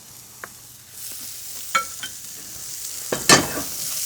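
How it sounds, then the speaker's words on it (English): Shallots sautéing in hot steak fat with black pepper for steak au poivre, a steady close sizzle with a few stirring clicks and a louder burst of spitting fat near the end. "We kind of want to saute those up for about a minute or so."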